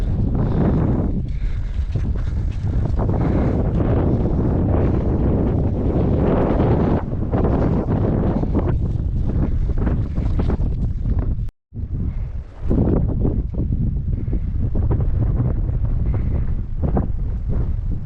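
Strong wind buffets the microphone in heavy, roaring gusts for the whole stretch, broken by one brief moment of near silence.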